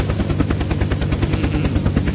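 Helicopter in the video game Unturned, a loud, close rotor with a rapid, steady chopping pulse and a heavy low drone running throughout.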